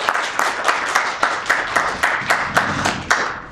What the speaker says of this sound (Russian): Дорогие друзья, аплодисменты, пожалуйста, нашему сегодняшнему автору.